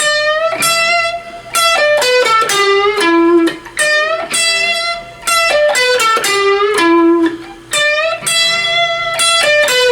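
Electric guitar picking a quick melodic riff from a song, bright sustained notes with bends, played alone and fairly loud, repeating the phrase a few times.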